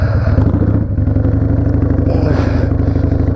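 A Tbones Blue Moon motorcycle pulls away in second gear, its engine loud and close with a steady, throaty rumble that holds through the run.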